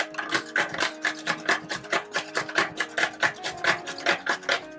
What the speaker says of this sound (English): you're gonna grate it on your cheese grater